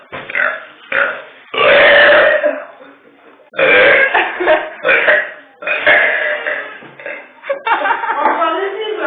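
A 14-year-old teenager lets out several loud, long burps in quick succession, close to the microphone, mixed with chuckles and talk from others.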